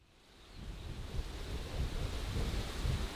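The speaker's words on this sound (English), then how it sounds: "The wind is blowing!" Cartoon storm wind sound effect, a broad rushing roar that swells from quiet to a steady loud gust with low rumbling, heard alone without any voices.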